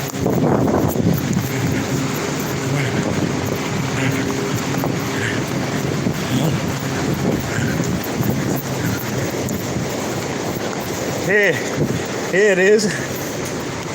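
A train rumbles along the rails with heavy wind buffeting the microphone, a loud continuous roar with brief whining tones near the end, and a person speaks briefly over it.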